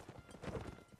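Horse hooves clip-clopping during a cavalry fight in the Napoleonic Wars line-battle game, a quick cluster of muffled hoof beats swelling briefly at the middle amid battlefield noise.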